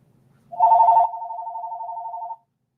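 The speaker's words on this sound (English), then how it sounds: "let me answer the phone" A telephone rings once in a bike shop, starting with a sharp, louder burst and then holding a steady warbling electronic trill for about two seconds before cutting off. It is clear and close, with no talking over it.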